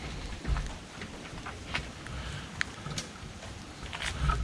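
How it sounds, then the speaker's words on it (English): Rain falls outdoors in a soft, steady patter with scattered sharper drops, faint and diffuse with a low rumbling undertone and no voices. "We're both standing out in the rain."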